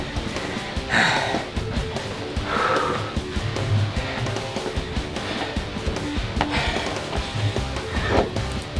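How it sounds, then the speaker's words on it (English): A man does a leg workout at home, breathing heavily with repeated loud gasps and snorting exhales in an uneven rhythm, close to the listener, with no speech. "breathing like he's gonna pass out"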